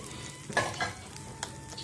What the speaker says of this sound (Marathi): आणि आता हे जरा ढवळा